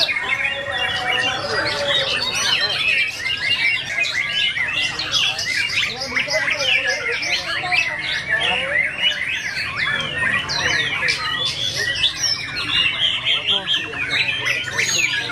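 White-rumped shamas (murai batu) sing in Vietnam, a dense, loud, continuous chorus of bright whistles, chirps and squawks from several birds that overlap throughout.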